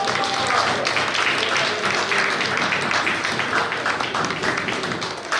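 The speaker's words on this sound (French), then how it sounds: "on va s'applaudir nous-mêmes parce qu'on a bravé le froid" A gala crowd of Congolese community members applauds itself, a thick, continuous wash of clapping and cheering noise that runs at a steady level for about five seconds.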